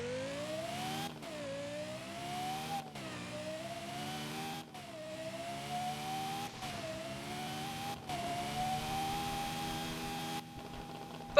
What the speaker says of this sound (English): the car still sounds really good